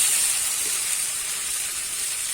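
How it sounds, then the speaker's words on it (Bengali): Steady hiss of spice paste sizzling as it is sautéed in a pan with fried ginger, onion and garlic, a constant close, fairly loud frying sound with no talk. "মশলাটা আমি দিয়ে দিলাম। দিয়ে আমি একটু কিন্তু ভালো করে কষিয়ে নেব।"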